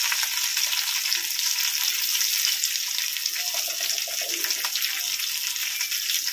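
Fish fries on a dosa pan with a constant, dense sizzle and crackle of hot oil, close and steady throughout.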